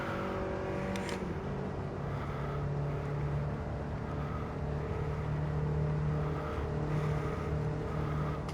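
Race car engines in Gran Turismo 7 drone steadily through a race, a constant layered whine that rises and falls slightly in pitch, with no one speaking.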